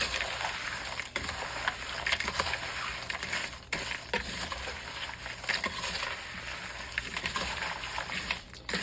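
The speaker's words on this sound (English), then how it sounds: "you get a cooking spoon, preferably slotted, and just stir very carefully because you will break them" A slotted cooking spoon stirs holiday finger-food appetizers with gentle care, giving soft, steady scraping and wet shuffling close by. The sound continues under a broad hiss, with no talking.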